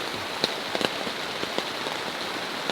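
Heavy rain drums steadily on a car tent at a campsite at night, a dense close hiss of drops broken by scattered louder taps, with no talking.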